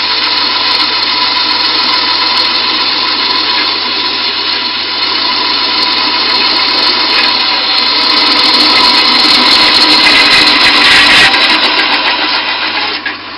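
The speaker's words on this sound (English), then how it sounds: "So it's cobalt steel drill bits." A power drill with a cobalt steel bit whines loudly and steadily, boring holes in steel in a knife maker's workshop with a constant high grinding tone that swells briefly near the end.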